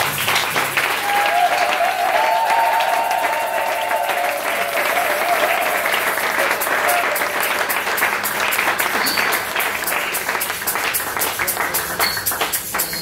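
A church congregation applauds and cheers in acclaim of Jesus, steady sustained clapping filling the room throughout, with scattered voices and shouts mixed into the crowd noise.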